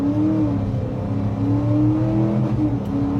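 A Mercury Grand Marquis with a small two-valve V8 accelerates hard, its engine note a loud, steady drone that rises and holds up close for the whole stretch.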